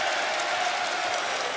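A wrestling arena crowd in Chicago roars at a professional wrestling match, a dense, steady wash of cheering and applause filling the whole hall without letup.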